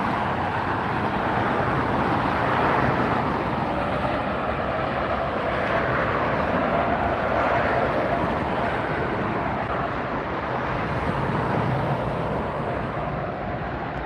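A JetBlue airliner in the 2023 Mosaic livery moves at LAX, giving a steady, moderately distant broadband roar with a faint traffic-like wash and no clear peaks, holding evenly throughout.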